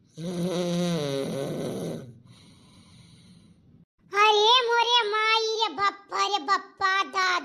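A person snores loudly in two long, rasping, voiced breaths separated by a quieter pause, the second snore more drawn out and broken into choppy bursts.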